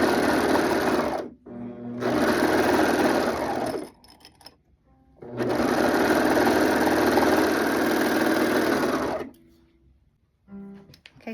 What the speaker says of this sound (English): little on the serger to get it to have a good serge